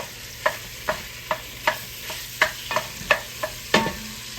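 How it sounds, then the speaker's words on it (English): Ground meat frying in a hot pan, stirred with quick, evenly spaced utensil taps and scrapes above a low, steady sizzle, close and clear. "What we're going to do, we're going to put our ground meat in here."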